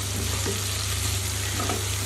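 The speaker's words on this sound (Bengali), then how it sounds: "আপনারাও এইভাবে নেড়ে চেড়ে মশলাগুলোকে কষাবেন যাতে তলে না লেগে যায়" Spice masala with fried soybeans sizzles steadily in hot oil as it is stirred and scraped around the pan, a continuous close frying hiss with soft stirring scrapes and no talking.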